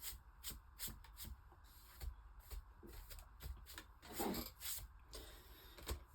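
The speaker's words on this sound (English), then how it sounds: "Let me get my big brush and wipe the desk off." A big brush sweeps old dust off a desk in a string of quiet, dry scrubbing strokes, irregular and close, with one longer rasping stroke near the middle.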